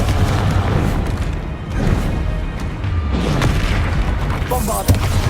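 Heavy booming blasts from the Confringo fire spell in Hogwarts Legacy on PS5, a series of loud deep explosions rolling one after another with crashing impacts and a sharp hit near the end.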